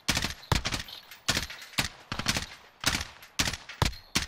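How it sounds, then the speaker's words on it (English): Gunfire in the Warzone video game comes in sharp, loud bursts of several rapid shots, repeating in irregular clusters with brief gaps between volleys. "He's getting shot by another."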